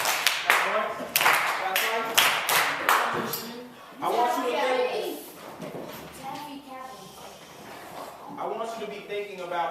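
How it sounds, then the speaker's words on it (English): A group claps on cue indoors, with sharp single and double claps in a quick rhythm between bursts of an adult's talking. "Clap once. Clap twice."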